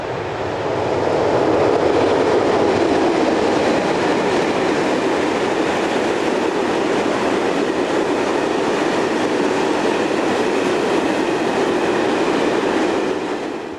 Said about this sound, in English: This is 6516 hauling a westbound train near Pendrecht.